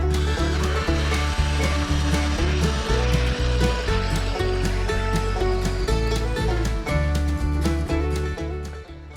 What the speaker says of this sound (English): Get your hole saw going